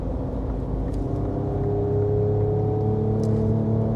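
A Ford Raptor 3.0 V6 pickup truck with 292 hp accelerating, its engine a steady, loud rumbling drone that holds and builds slightly over several seconds, heard from inside with no talking.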